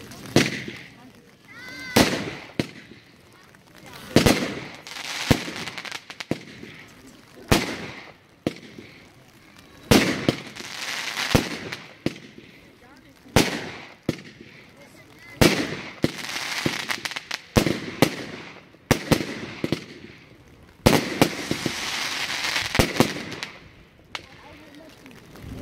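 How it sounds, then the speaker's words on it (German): Startrade Giant Squid multicolor palm firework battery with blinking stars and crackling at a music fireworks show in Stein near Nuremberg: repeated sharp bangs and bursts with dense crackle between them, heard from a distance over crowd murmur. "Eine Multicolor Palmenbatterie mit Blinksternen und Crackling."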